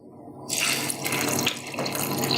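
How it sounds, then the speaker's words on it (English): After a quiet moment, water gushes from a tap into a container, a steady close splashing rush that continues to the end, with no voices. "And I'll chuck a little bit of water in there."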